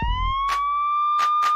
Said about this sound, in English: the siren makes a sound like this